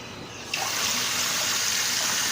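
Water rushes in through a hose to fill a HygroHybrid system, starting abruptly after a short quiet moment and then holding as a steady, loud, broad hiss with no voices over it.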